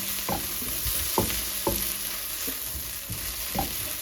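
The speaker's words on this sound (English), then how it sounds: "The frying okra." Chopped okra sizzles steadily in a hot pan, a close, continuous fry hiss broken by several sharp stirring scrapes spaced about half a second to a second apart.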